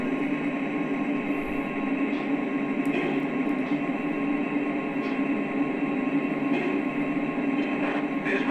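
Lionel Legacy GP20 model diesel locomotive running, giving a steady, continuous engine rumble and hum with faint clicks, close and unbroken throughout.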